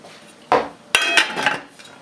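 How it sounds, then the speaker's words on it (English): A metal lid set down onto a pot of simmering tomato basil soup, giving a close clank followed by a couple of shorter rattles and scrapes as it settles. "So I'm going to get the lid out and cover that."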